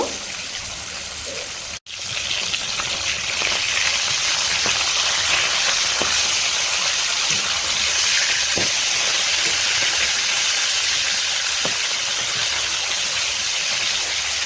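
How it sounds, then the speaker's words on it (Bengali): Rohu fish pieces fry in hot oil with a steady, loud broadband sizzle and hiss that runs almost unbroken, briefly dropping out once near the start. "মাছগুলো এক পাশে ভাজা হয়ে গেলে অন্য পাশে উল্টে পাল্টে ভালো করে ভেজে নিব"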